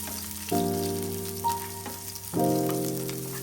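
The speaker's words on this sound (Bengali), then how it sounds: "প্রথমে দিলাম রসুন, তারপরে দিলাম পেঁয়াজ। এটাকে ভালো মতো ভেজে নিলাম" Garlic and onion fry in mustard oil with a soft, steady sizzle close by, while sustained tonal, music-like notes swell in twice over it.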